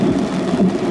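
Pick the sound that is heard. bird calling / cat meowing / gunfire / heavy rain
heavy rain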